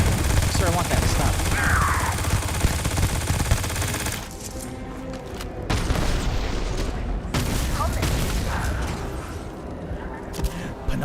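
Rapid weapon fire in the video game Starfield, with dense bursts of shots and booming impacts that come in loud, continuous volleys and break off briefly before starting again.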